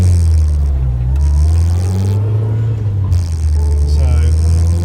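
An Austin Allegro's engine pulls hard at full throttle on an A-road, a steady low drone with rising pitch heard from inside the car, with talk over it.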